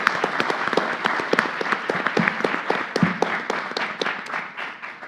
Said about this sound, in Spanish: Un fuerte aplauso para la ponente.